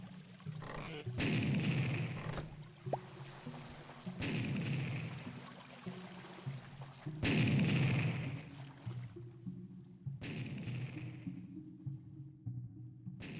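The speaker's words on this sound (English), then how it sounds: "I hear explosion!" TNT blasts rain down in the VoxeLibre block game, four heavy booming explosions, each swelling into a long rumbling roar and fading, spaced a few seconds apart.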